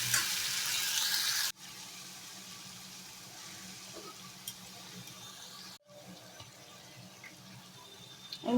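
A spice mixture sautéing in a pan for a Bhola fish curry sizzles loudly at first, then drops to a quieter hiss with a few faint stirring scrapes and abrupt cuts, and no voices are heard.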